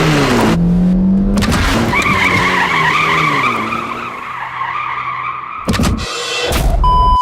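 Tires screech in a car advertisement for BMW as the engine roars, a loud continuous squeal with shifting engine tones throughout, broken by abrupt cuts near the end.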